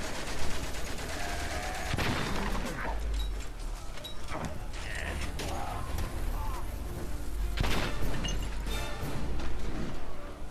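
A machine gun emplacement fires in the World War I video game Valiant Hearts: The Great War, with repeated gunshot bursts and explosive crashes over steady mechanical rumble and loud battle noise throughout.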